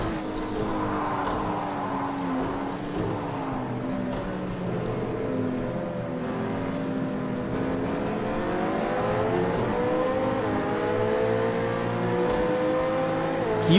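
A 2017 Acura NSX engine revs loud and continuous in the Project Cars 2 racing game, its pitch rising and falling through gear changes, with no voices over it.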